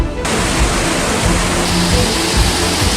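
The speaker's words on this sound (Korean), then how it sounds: "물소리가 아주 그냥" Rushing mountain stream water along a trekking route in the Langtang valley, Nepal, a steady, loud, broadband roar of flowing water that fills the whole clip close by, with no voices.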